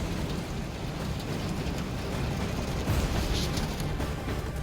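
Heavy typhoon rain and rushing floodwater in Taiwan and Hong Kong, a dense, steady roar of downpour and churning water that stays loud and unbroken throughout, with no voices.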